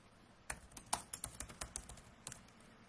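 Fingers type quickly on a computer keyboard, a close burst of a dozen or so crisp key clicks in an uneven rhythm, quiet room, no talking.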